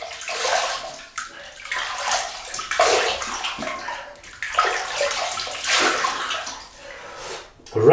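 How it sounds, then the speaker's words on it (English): Water splashes and sloshes in repeated scoops as a face is rinsed during a double-edge razor shave, close and fairly loud, with running-water wash between the splashes. "So rinse the face and get on with it."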